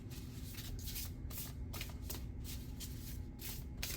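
Trust Your Vibe oracle cards being shuffled by hand: soft, repeated riffling flutters in a steady rhythm, close and quiet, with no talking.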